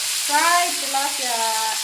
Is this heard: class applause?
no